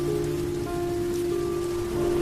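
Heavy rain pours steadily on a surface around a truck on a lonely dark road, a loud, unbroken hiss with a low engine-like hum running beneath throughout.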